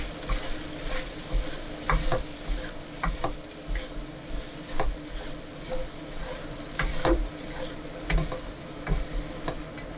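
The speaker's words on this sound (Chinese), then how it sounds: "1勺白糖和芝麻， 关火翻炒均匀，" Chicken and peppers tossed in a wok with sugar and sesame seeds, the heat already off: a steady soft sizzle under repeated scraping and stirring strokes, close and moderately loud, with no talking.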